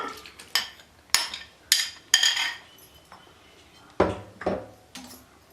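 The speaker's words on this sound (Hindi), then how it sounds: "ब्लेंडर का हमने जग ले लिया है। अब हम इसमें डाल देंगे लीची का पल्प" Litchi pulp goes into a blender jug in a kitchen, giving a run of sharp clinks and knocks of fruit and utensils against the jug, about eight distinct hits with short pauses between them.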